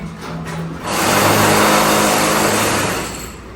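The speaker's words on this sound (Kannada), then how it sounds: "ಸ್ವಲ್ಪ ಡ್ರಿಲ್ಲಿಂಗ್ ಸೌಂಡ್ ಎಲ್ಲ ಬರ್ತಾ ಇತ್ತು, ಪ್ಲೀಸ್ ಬೇಜಾರು ಮಾಡ್ಕೋಬೇಡಿ. ಬಿಕಾಸ್ ಮೇಲ್ಗಡೆ ಮನೇಲಿ ಕೆಲಸ ನಡೀತಾ ಇತ್ತು." Construction drilling comes from work in the upstairs house: a harsh, whirring power-tool burst rises suddenly, holds loud and steady for about two seconds, then drops back to a quieter background.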